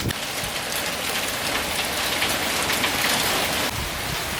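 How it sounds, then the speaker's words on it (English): Hail and heavy rain pelt down in a strong, windy storm at an old Italian home, a dense, continuous loud hiss and patter with no voices. "now it's hailing, like the wind is blowing like crazy and there's like legit hail"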